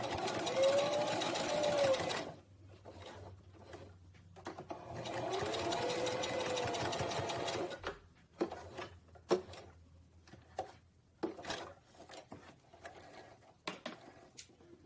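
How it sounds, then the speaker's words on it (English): A sewing machine backstitches the fabric of a dog bandana, running in two steady stitching bursts, then giving way to scattered clicks and handling noises as the cloth is adjusted. "another time I'm gonna backstitch"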